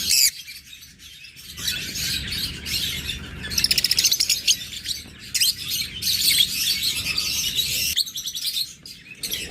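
A pair of pet birds for sale chirp and tweet in quick, bright bursts, close and lively, with one rapid trilling run partway through and no talk.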